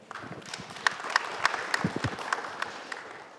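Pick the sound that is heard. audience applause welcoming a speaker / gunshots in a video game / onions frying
audience applause welcoming a speaker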